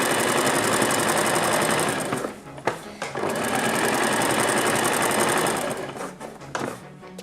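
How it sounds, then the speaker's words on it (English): A sewing machine stitches a jacket with a loud, steady, rapid mechanical whirring hum. The hum briefly stops and restarts a couple of times, then runs more unevenly near the end. "if your machine's got a reverse, which is, you can just reverse stitch it to secure the edge"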